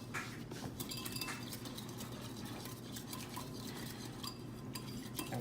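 Gravy mixture stirred in a pan while cooking a beef roast, a quiet continuous scraping of utensil against metal with faint clinks, close and alone.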